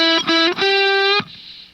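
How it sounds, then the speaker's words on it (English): Overdriven electric guitar in a minor blues lick: short repeated picked notes, then a sustained note nudged slightly sharp with a quarter-tone bend, held about half a second before cutting off into a faint ringing tail. "you're just going to do a little quarter note bend."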